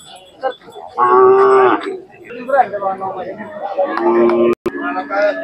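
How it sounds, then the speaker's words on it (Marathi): A cow at a Sangola Khillar cattle market gives a loud, close moo lasting under a second, with people chattering nearby and more crowd voices and market bustle continuing afterward. "इथे एक गाय आहे, पाहू शकतो."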